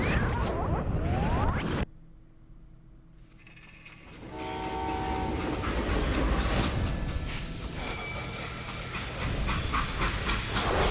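A freight train in the Call of Juarez: Gunslinger video game hisses loudly with steam, falls briefly quieter, then sounds a horn over rumbling, clanking rolling noise that builds again.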